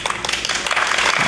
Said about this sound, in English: to a round of applause as well